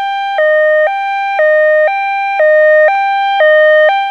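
Ambulance siren in a Roblox story, a loud two-tone hi-lo wail alternating evenly about once per second, steady and close with nothing else around it.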